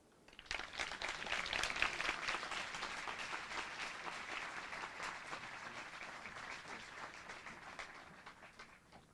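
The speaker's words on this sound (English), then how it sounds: "we applaud with all our hearts" An audience applauds at a building dedication ceremony for David G Brown Hall, clapping swelling quickly, holding steady, then tapering off, heard at a moderate distance in a large room.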